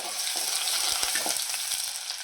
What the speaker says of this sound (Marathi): त्यावर एक मध्यम आकाराचा कांदा बारीक चिरून घेतलेला आहे। तो गुलाबी रंगावर आपल्याला फ्राय करायचा।